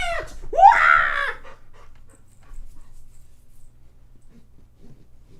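A dog gives a short high whine or yelp close by, then goes quiet apart from faint panting and soft low noises in an otherwise silent room.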